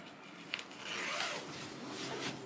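A long garment bag is unzipped up close, its zipper giving a steady rasping pull of about two seconds that begins with a couple of small clicks.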